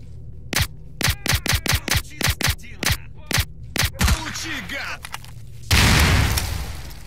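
Rapid gunfire cracks out in a quick irregular string of about a dozen loud shots in the STALKER game, followed by a short gap and then a broad, rumbling grenade explosion that lingers to the end.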